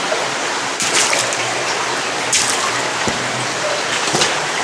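A small mountain river in Norway rushes and burbles steadily at close range, a continuous flowing wash with a few brief splashy peaks and no voices.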